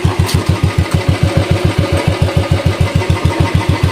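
An old Royal Enfield Bullet motorcycle that has sat unused for years and has a faulty self-starter, its single-cylinder engine running close and loud with a steady, rapid thumping idle.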